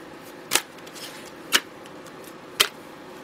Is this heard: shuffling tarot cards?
yes